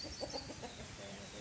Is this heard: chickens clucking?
yes